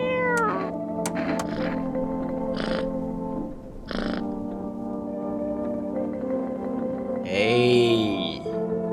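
A small cat meows several times in a video game, mixed with tonal in-game music and effects and a brighter burst near the end, all without talk.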